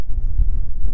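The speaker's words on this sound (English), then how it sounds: "It's super windy outside." Strong coastal wind buffets the microphone outdoors beside a wall in Morocco, a loud, continuous low rumble with gusty swells and no break for the whole moment.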